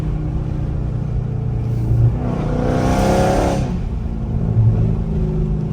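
A Scat sports car engine revs up loudly and roars, building to a peak before settling back into a low idle rumble.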